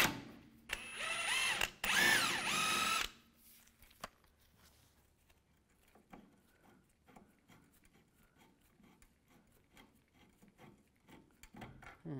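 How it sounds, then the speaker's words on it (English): Working a rear shock absorber bolt free with a 16mm socket and wrench on a 1998-2010 Volkswagen Beetle: a loud harsh grinding burst for about two seconds, then quieter scattered metallic clicks and ratcheting. "And take that bolt out."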